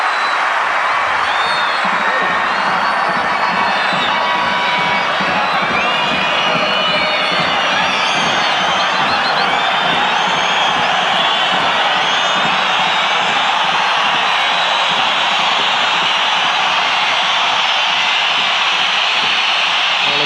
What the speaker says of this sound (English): Whistles from the home crowd at the Centenario